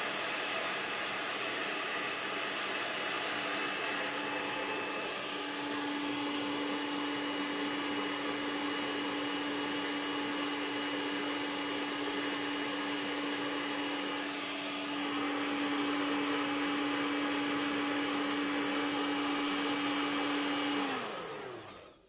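A hair dryer blows steadily to dry acrylic paint, a loud continuous whooshing hum with a whining tone that holds for about twenty seconds before switching off abruptly at the end.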